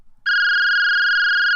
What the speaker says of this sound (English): The phone rang.